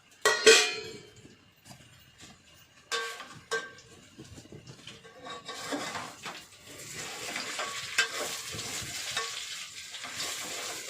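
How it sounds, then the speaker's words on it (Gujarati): Millet flatbread being tempered in hot oil with mustard seeds and curry leaves: sizzling and frying with stirring, utensil clinks and pan knocks, building to a steady crackle toward the end, no talking. "રોટલાનો વઘાર કરી દઈએ."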